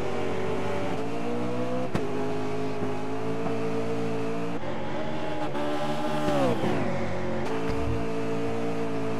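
Touring race car engines in a racing video game drone and rev continuously, pitch sliding up and down through gear changes, with a brief dip and sweep midway.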